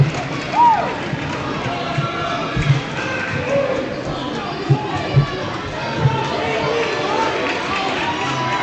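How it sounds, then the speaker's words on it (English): A crowd in a school gym roars and cheers after a pin at a ninth-grade wrestling match, with a commentator talking over the noise and occasional thumps. "The crowd goes wild"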